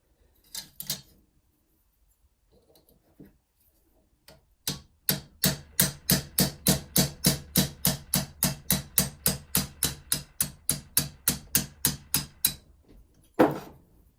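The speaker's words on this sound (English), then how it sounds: "Now we just need to tap the other one out." Metal hammer taps driving a rivet out of a vintage Yale padlock, a few scattered knocks at first, then a steady run of about twenty sharp, evenly spaced strikes, close and isolated.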